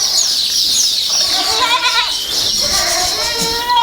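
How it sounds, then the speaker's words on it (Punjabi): A goat bleats several times in wavering, drawn-out cries, close and fairly loud, with faint farmyard background noise. "ਆਪਣੀ ਇੱਕ ਇੱਥੇ ਆ ਬੱਕਰੀ ਫਿਰਦੀ ਹੈਗੀ ਆ ਕਾਲੀ ਚਿੱਟੇ ਮੂੰਹ ਵਾਲੀ"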